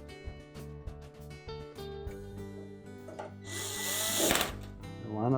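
A power driver runs a retaining screw into the main top of a Frigidaire range, a close whirring buzz that climbs into a harsher, louder grind as the screw seats.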